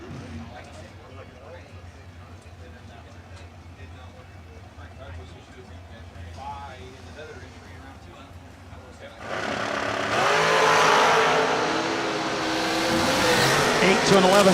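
Drag race cars at a grassroots bracket event roar down the strip, a quieter engine rumble building to a loud, broadband surge of racing engines partway through and staying loud to the end.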